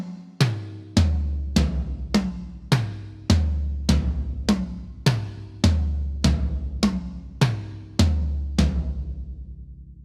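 Floor toms fitted with clear Remo Ambassador heads and close-miked with TGI51 dynamic mics, struck one at a time in a steady run of about a dozen loud, booming hits, each ringing out with a long low decay, no voices.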